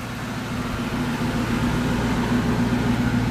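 A stock 1996 Ford Mustang GT coupe V8 idles smoothly through its dual exhaust, a steady low rumble held evenly and close throughout with no voices.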